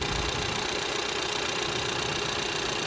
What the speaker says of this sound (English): And there's your 2-liter turbocharged engine.